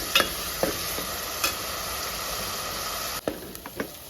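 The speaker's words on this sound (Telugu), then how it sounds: "చూడండి, ఉల్లిగడ్డ మంచిగా ఫ్రై అయింది కదా." Onions fry and get stirred in a pan for a fish gravy, a soft, steady sizzle broken by a few sharp spoon scrapes and clicks near the start and end.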